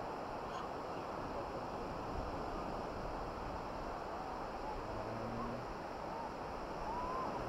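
Waves wash steadily onto a white sand beach at Anjarle, Dapoli, on a calm midday, a soft continuous surf hiss heard from some distance, faint and even, with no voices.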